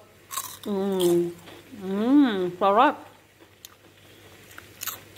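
Crisp crunching bites of fried chicken-skin chicharon come in short bursts near the start and end, with a person speaking in between.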